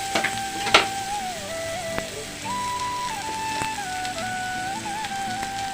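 Ginger paste sizzles in hot oil in a pan for egg biryani, a close crackling fry with a few sharp spatters near the start, continuing steadily with no talking.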